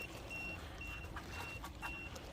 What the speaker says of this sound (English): I love that shallow water alarm that lets me know, hey, you've got potential trouble ahead